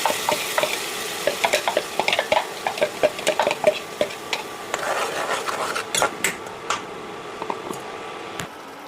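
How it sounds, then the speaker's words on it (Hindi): Cumin and spices are tempered in a kadhai on an induction cooktop for a paneer dish with capsicum and tomato. Soft sizzling runs underneath close, repeated stirring scrapes and metal utensil clinks, with no talking. "ये देखिए खाने के लिए मैंने इंडक्शन पे कढ़ाई चढ़ा चुकी हूँ और मारेंगे तड़का।"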